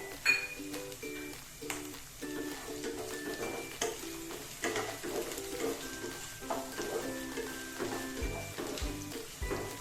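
Carrot pieces go into a pan of potatoes frying for dhaba-style mixed vegetables, giving a steady soft sizzle with scattered clinks and scraping of a utensil against the pan, with no talking.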